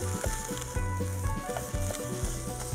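Sausage browning in a pan for a breakfast casserole, a steady close sizzle of frying with scattered pops and a few clinks of a utensil stirring the meat.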